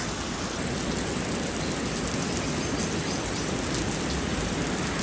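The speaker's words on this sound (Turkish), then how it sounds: "çok fena bir yağmur yağıyor ya" Heavy rain pours down on a farm in a dense, constant hiss with no break, loud and close throughout.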